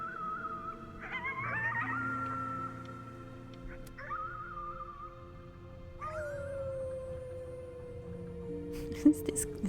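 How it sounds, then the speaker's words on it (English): Coyote howls from the video game Before Your Eyes: several drawn-out, wavering high cries rise and fall in turn over a low ambient hum, with a brief clatter near the end. "Is this guy a coyote?"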